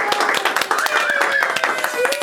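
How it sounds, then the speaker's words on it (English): An audience claps for a guest at a talk, steady close applause throughout the short stretch while a voice speaks over it. "Let's clap for him."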